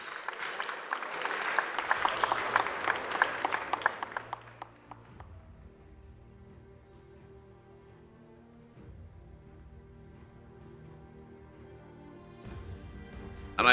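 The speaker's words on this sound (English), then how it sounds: "Please give a huge round of applause for him" An audience at an African awards ceremony applauds an award recipient, dense clapping for about four seconds before it fades into a quiet hall with low hum and faint stirring.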